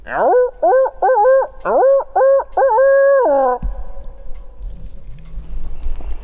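A bird calls outdoors on public land in March, a series of loud, close, evenly spaced hooting notes that stop abruptly, followed by quieter rumbling background noise.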